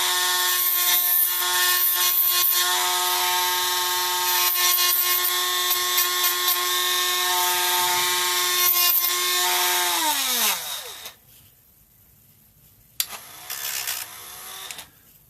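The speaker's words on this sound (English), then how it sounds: "Dremel, just gonna tie that corner up." A high-pitched Dremel rotary tool whines steadily while sanding wood, then winds down and stops, followed by a quieter brief burst near the end.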